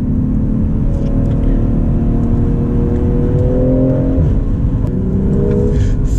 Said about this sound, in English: Now we'll downshift to 3rd here to hold the gear.